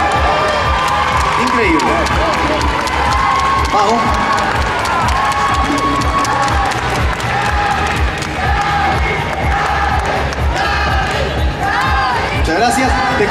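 Loud cheering, shouting and clapping from a large crowd at a beauty pageant coronation, sustained without a break and close, with high excited voices and a few spoken exclamations over the roar.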